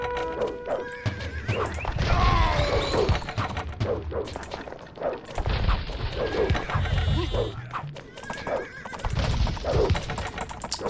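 Horses in the Age of Empires video game neigh and whinny repeatedly, mixed with clip-clopping hooves and clashing battle sounds, loud and close.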